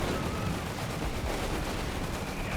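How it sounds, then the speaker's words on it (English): Mortar fire in Company of Heroes 3 during a Wehrmacht versus US Forces match, a dense, continuous barrage of booming artillery and crackling gunfire that fills the whole stretch at steady loudness. "Scouts setting up a mortar fire there."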